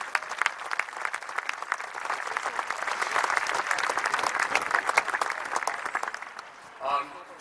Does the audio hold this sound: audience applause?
yes